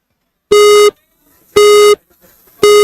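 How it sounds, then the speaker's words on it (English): Three loud electronic start beeps at a ninja obstacle course competition, evenly spaced about a second apart, each a steady tone lasting under half a second with nothing else heard between them. "she'll be off and running as soon as we hear those beeps"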